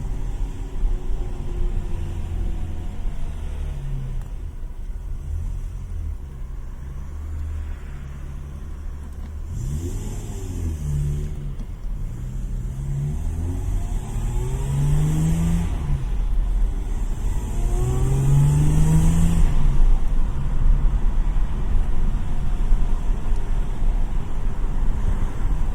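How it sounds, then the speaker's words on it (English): A manual Daimler Double Six XJ12 drives along with the windows shut, its V12 engine a steady cabin drone that swells and revs through gear changes, with rising and falling engine tones growing louder toward the end. "you can see when the car's driving with the windows shut"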